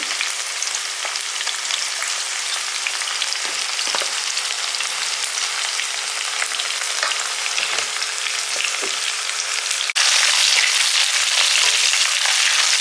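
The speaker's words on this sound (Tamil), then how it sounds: "வெங்காயம் வெள்ளப்பொடி இந்தளவுக்கு வதங்கிருக்கணும்" Onion and garlic sauté in a pan, giving a continuous dense hiss of frying oil with a few faint knocks, growing a little louder near the end, with no talking.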